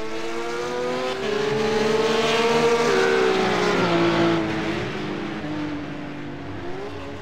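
A RUF race car engine at Interlagos in iRacing drones steadily, its pitch climbing and shifting as it accelerates uphill toward a chicane. Other cars are audible nearby, and a faint tire squeal comes through.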